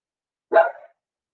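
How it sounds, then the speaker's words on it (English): A single short dog bark, loud and close, standing alone in otherwise silent surroundings. "My dog is barking."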